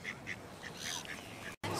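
Ducks by a lake in New Zealand quacking in a repeated series of short, moderately loud calls over faint outdoor background.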